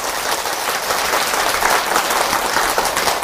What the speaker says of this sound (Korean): 여러분들의 박수 소리를 들어보니까 박수 소리만 들어도 술술 풀릴 것 같아요